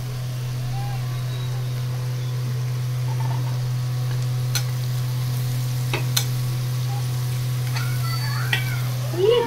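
Onion frying in a pan makes a continuous crackling sizzle, steady and close, with a few sharp clicks over a constant low mains-like hum.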